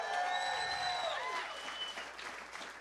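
Comedy club audience applauding and cheering at a stand-up show at the Laugh Factory, a dense burst of clapping that tapers off over a few seconds.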